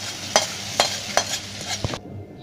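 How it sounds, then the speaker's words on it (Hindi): Homemade achar being stirred and mixed in a pan, with several sharp scraping strokes over a steady sizzle, close and fairly loud, ending abruptly. "इसको अभी अच्छे तरीके से मिक्स कर लेंगे थोड़ा।"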